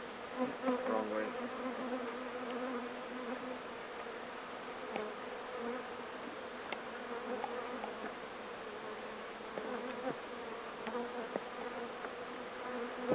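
Bees hum steadily around an open beehive during a spring inspection, a dense, continuous buzz with occasional louder passes close by.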